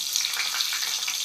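Onion fries in hot oil with mustard seeds for sambar, giving an even, close, continuous crackling sizzle.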